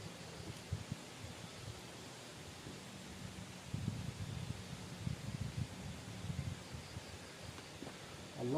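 Strong wind gusts through trees at a campsite near an old cemetery, a steady broadband rush that swells louder in the middle and again at the end, with faint low rumbling throughout.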